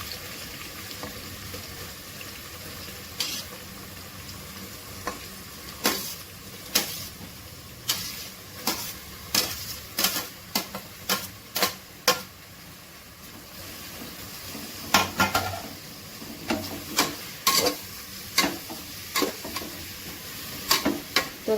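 Onions sizzle and fry in a pan for a mutton tongue and jaw curry, with a steady low crackle under repeated sharp clicks and scrapes of stirring, no talking.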